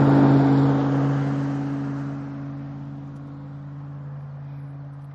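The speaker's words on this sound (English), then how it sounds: "These cars are flying up and down this thing" A car speeding along a vacant road with blind turns, a loud pass with a droning engine tone that fades steadily as it moves off into the distance.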